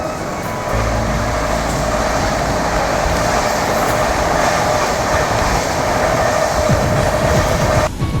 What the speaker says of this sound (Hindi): Overtaking Telangana express eight Dabra.